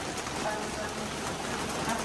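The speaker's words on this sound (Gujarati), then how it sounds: "તડકો છે ને તો વરસાદ ચાલુ થયો" Rain begins falling while the sun is still out, making a steady, even hiss and patter on surfaces that stays constant and fairly close throughout the short stretch.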